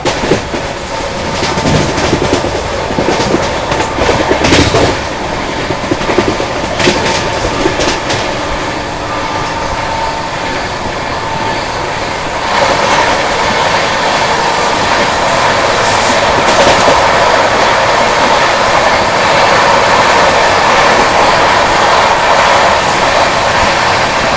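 The Delhi–Mumbai Rajdhani Express (22222) runs at speed while overtaking the Yognagari Rishikesh–Hubli Weekly Express. Loud, close, continuous rail rumble and clickety-clack wheel beats give way to a smoother, steady roar midway.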